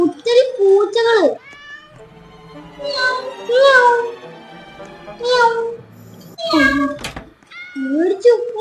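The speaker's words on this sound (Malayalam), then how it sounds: "ഇവിടെ ഒത്തിരി പൂച്ചകള്" Several cartoonish cat meows in the Roblox game Escape Crazy Cat Lady, a run of loud, close mews and wails arriving in bursts, one after another.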